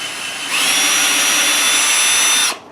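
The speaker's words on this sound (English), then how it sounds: "you drill a hole that's somewhat smaller than the screw itself" A power drill bores a pilot hole smaller than the screw, running steadily at high pitch for about two seconds with a sharp start and stop, loud and close.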